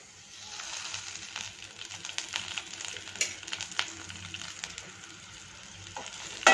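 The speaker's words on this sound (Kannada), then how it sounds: "1 ಸ್ಪೂನ್ ಎಣ್ಣೆನ ಹಾಕ್ಕೊಂಡು ಇದಿಷ್ಟನ್ನು ಇವಾಗ ನಾನು ಹುರ್ಕೊಳ್ತಾ ಇದ್ದೀನಿ." Cumin seeds fry in a spoonful of oil with a soft, steady sizzle and occasional light stirring scrapes and crackles, close but quiet, with a louder clatter at the very end.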